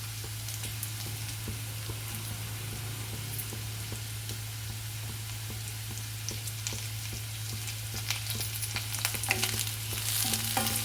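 Onion and green chillies frying in a pan, a constant soft sizzle under a steady low hum, with light spatula scrapes and a louder crackle toward the end, close and alone.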